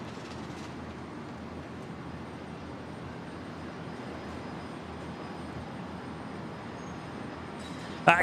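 A Qantas jet rolls for takeoff on runway 01 right at Brisbane Airport, bound for Melbourne, its engines a steady distant broadband roar held throughout.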